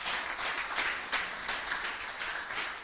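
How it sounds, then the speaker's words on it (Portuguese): A church congregation gives God a round of applause during a sermon, steady mid-level clapping with some louder accents throughout, no voices heard. "Eu quero que você aplaude esse Deus, irmãos, porque Ele merece. Mas com a melhor salva de palmas que você tiver."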